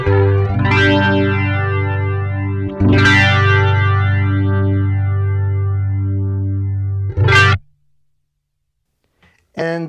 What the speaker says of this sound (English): This one has modulation engaged